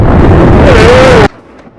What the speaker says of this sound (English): No, because of the ginormous storm that's about to hit.